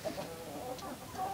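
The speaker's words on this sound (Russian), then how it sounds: "вот второй петух у нас, такой крупный." A large rooster in a chicken coop making soft, low clucking and throaty calls close by, a few short vocal bursts over quiet background.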